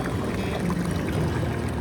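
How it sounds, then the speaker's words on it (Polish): Water gathered from a mountain stream at a campsite in the Caucasus near Kazbek in Georgia, a steady close rushing and pouring splash that fills the whole moment without pause. "Pobieramy wodę, żeby była już na rano."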